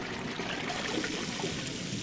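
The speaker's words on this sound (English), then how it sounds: "Give us a courtesy flush." Water rushes and trickles steadily in a toilet flush in the Max Payne video game, a continuous gurgling pour heard alone at moderate level.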